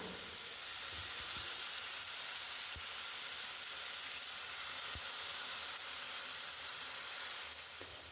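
Cooked liver frying with curry leaves in a pan, a steady close sizzle and hiss throughout, with a few soft knocks of stirring.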